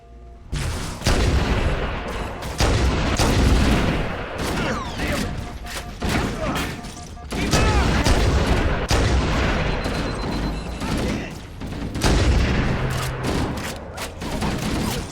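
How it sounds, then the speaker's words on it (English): Heavy covering gunfire in Halo: Combat Evolved, loud dense volleys and booming shots in repeated waves lasting several seconds, with voices briefly heard among them. "Covering fire!"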